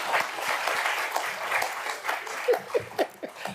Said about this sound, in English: Clap for me now.